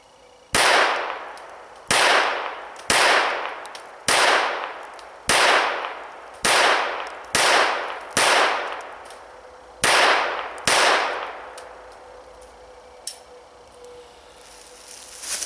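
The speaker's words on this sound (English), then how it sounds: "Just going to go ahead and slow fire and get a sense of where the gun is hitting." Browning Buckmark .22 pistol fitted with a Tactical Solutions barrel firing at a target: ten sharp shots at a steady slow pace, each with a short decaying ring, loud and close, with no talk.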